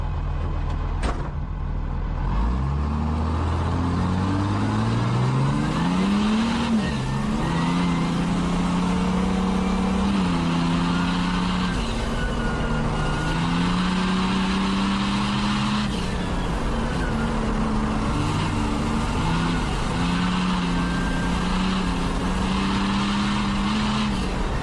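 In-car race truck engine drones loud and continuous, rising in pitch through gear pulls and dipping at shifts, sustained throughout with no talk.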